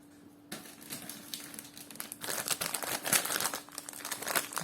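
Paper napkins being crumpled and scrunched by hand, a close, continuous crackling and rustling that grows louder and busier after the first second, with no voices.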